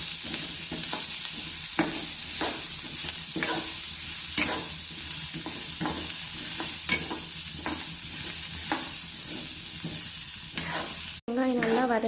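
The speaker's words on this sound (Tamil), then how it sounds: "வெங்காயம் நல்லா வதங்கி செவந்து வந்துருச்சு." Onions sautéing in oil for a chutney hiss steadily in a pan, with repeated scraping strokes of a spoon stirring them and a brief cut and burst of clatter at the end.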